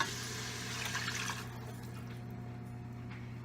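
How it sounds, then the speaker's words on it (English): About two cups of water pour into a cooking pot in a steady, splashing stream for over a second, then stop, leaving a low hum. "You want to add about 2 cups of water"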